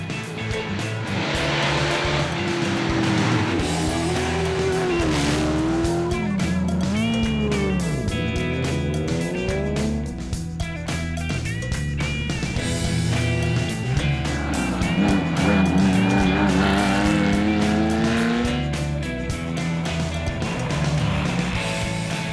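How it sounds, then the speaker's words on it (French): Vintage race cars, including a Ford GT40, roar past at full throttle, engines revving hard and shifting pitch as they pass one after another, loud and continuous. "tous les favoris se livrent à fond déjà, comme la Ford GT40"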